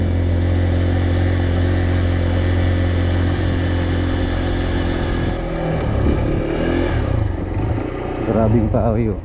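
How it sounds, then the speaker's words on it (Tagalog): Motorcycle engine chugging steadily with rattling and clatter on a rough access road in San Jorge, Samar, Philippines, loud and close; voices talk over it near the end. "Parang nagkakaroon yung makina pag naaalog."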